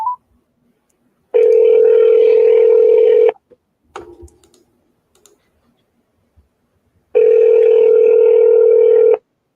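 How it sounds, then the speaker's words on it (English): A telephone line gives off a steady dial tone for an outgoing call, two sustained tone bursts lasting about two seconds each, with faint clicks and keypad presses between them, close and clear. "We're going to get someone on the phone here soon."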